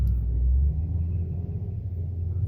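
A loud car passes by outdoors, its deep low rumble swelling at the start and then easing off into a steady traffic drone.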